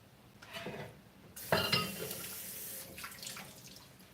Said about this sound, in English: Let me wash my board.